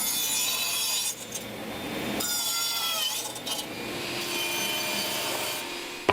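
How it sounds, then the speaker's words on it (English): Steady rasping strokes of a hand saw cutting through wood, a continuous back-and-forth scraping with a brief pause partway, no voices. "So let's do some more sawing."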